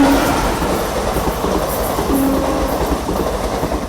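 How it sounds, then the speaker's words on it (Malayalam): The Netravati Express passenger train rolls past toward Thiruvananthapuram in Kollam, a steady loud roar of wheels and carriages with rhythmic clickety-clack and faint squeals, close and continuous. "നേത്രാവതി എക്സ്പ്രസ് അവിടെ നിന്ന് തിരുവനന്തപുരം ഭാഗത്തേക്ക് പോകുന്നു."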